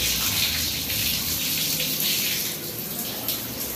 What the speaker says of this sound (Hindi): ये सब प्रॉब्लम एयर की थी, एयर निकला पानी आने लगा।